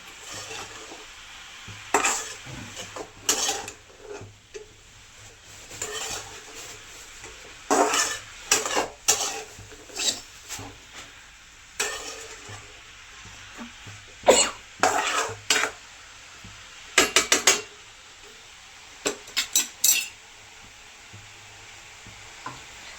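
Karadi (safflower leaf) bhaji being stirred in a pan after salt is added: intermittent scraping and clinking strokes of a spoon against the vessel, coming in short bursts between quieter gaps over a faint background hum.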